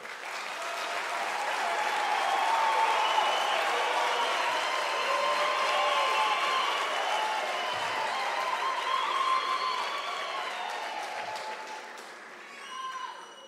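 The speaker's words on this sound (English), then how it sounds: "A warm round of applause for everyone." Sustained applause from a large crowd at a university graduation ceremony, steady and warm, swelling slightly before tapering off near the end.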